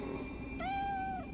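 A cat meows once in the video game Nioh, a single clear, drawn-out tonal meow over a low, steady background ambience.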